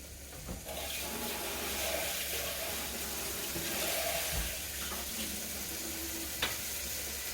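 Water poured into a pot of black-eyed peas with onions and garlic, a steady wet splashing and hiss that runs throughout at moderate level, with a brief clink near the end.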